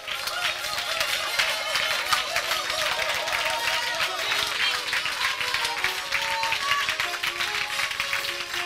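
A church congregation at a charismatic worship service applauds and cheers the Lord, sustained rhythmic clapping with shouts and voices in a loud, continuous crowd roar.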